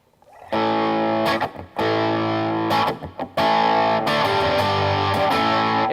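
Electric guitar played through a Tone 101 distortion pedal with the gain turned down, giving sustained chords with a milder, less crunchy drive, struck in a few separate strums with short gaps, loud and close.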